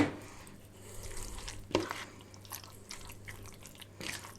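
A spoon stirring spiced minced meat filling for börek in a pan, with soft scraping and shuffling strokes and a faint sizzle underneath, close and fairly quiet, with no voice.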